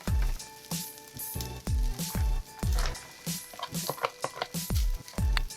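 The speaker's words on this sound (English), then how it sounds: "Once the eggs are all nicely scrambled, it's finally time to drop in the rice." Scrambled eggs and rice sizzling in a pan, with regular thumping pulses and soft squishing under a light sizzle. Close and moderately loud, and no one speaks over it.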